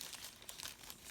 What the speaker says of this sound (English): I'll get this around and I'll tape this stuff together